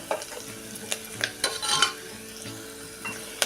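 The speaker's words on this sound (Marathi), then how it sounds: "आता हे दोन मिनटं आपण छान असं कांदा गुलाबी होईपर्यंत परतून घेऊया" Chopped onion sautés in a pan for bajra (pearl millet) khichdi with vegetables, stirred until pink; a steady close sizzle runs throughout, broken by sharp scraping clicks of the spoon against the pan.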